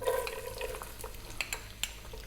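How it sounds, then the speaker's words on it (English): Chopped onion dropped into hot oil in a pan for prawn biryani, sizzling and frying with a few sharp clinks and scrapes of stirring, close and moderately loud with no talking. "the 1 cup of onion, and we're going to cook this on an above medium heat for about 3 minutes."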